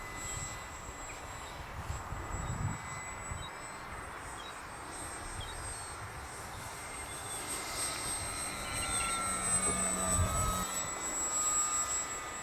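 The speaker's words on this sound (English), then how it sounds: "You see the plane bumping around right due to the wind" A model airplane flying in gusty wind drones steadily with a thin high-pitched motor whine, heard faintly from a distance over continuous wind noise, with no talking.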